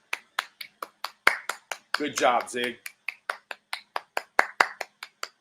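A steady run of about twenty sharp hand claps, evenly spaced and fairly close, continues for the whole stretch, with a voice briefly speaking over the claps partway through.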